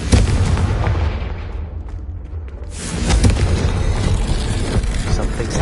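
A Confringo blasting spell goes off in the Hogwarts Legacy video game: a loud, sustained rumbling boom that briefly dips around the two-second mark, then surges again and keeps roaring to the end.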